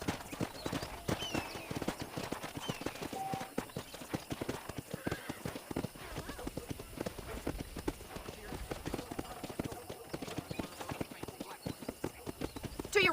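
Horse hooves in Red Dead Redemption 2 beat out a steady clip-clop rhythm at a moderate volume, continuing throughout under a faint background of voices.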